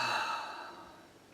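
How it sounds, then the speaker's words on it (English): A single deep breath exhaled slowly and softly close to the mic, fading out over about a second in a quiet room. "Take a few deep breaths."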